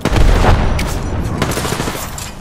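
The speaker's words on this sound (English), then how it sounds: "Tossing a grenade." A frag grenade thrown in Apex Legends, heard as a dense, loud wash of explosive booms and gunfire that fills the whole stretch with continuous rumbling noise.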